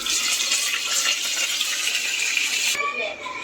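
Water is poured into a hot pan of oil, mustard seeds and cumin holding whole stuffed eggplant, making a steady hissing rush that cuts off near the end.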